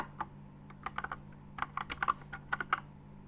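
Rapid, uneven keystrokes on a computer keyboard, close and fairly quiet, arriving in short clusters of clicks with brief pauses over a low steady hum.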